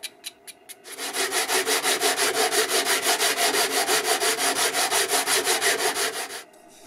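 Rhythmic back-and-forth sanding of a wooden soundboard brace on a sanding dish, steady scraping strokes repeating quickly for several seconds after a few brief taps, close and fairly loud.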